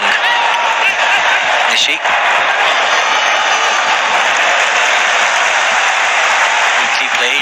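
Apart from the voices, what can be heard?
stadium crowd applauding at a football match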